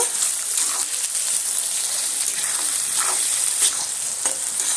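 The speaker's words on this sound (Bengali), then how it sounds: "পেঁয়াজটা আমি তেলের মধ্যে দিয়ে দিচ্ছি দিয়ে আমি পেঁয়াজটা একটু সুন্দর করে লাল লাল করে ভেজে নেব" Sliced onions frying in hot oil for egg biryani, giving a loud, continuous crackling sizzle up close, with a few brighter spitting bursts and no voices.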